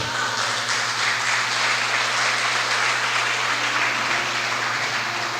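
A church congregation at an evening service applauds in a continuous, loud wash of clapping that holds steady from start to finish.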